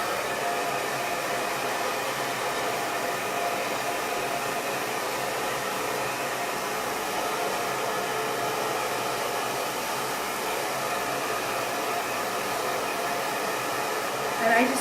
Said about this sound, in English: using this dryer,